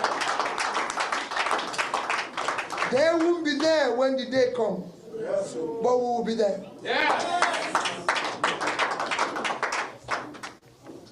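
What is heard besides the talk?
applause for presidential candidate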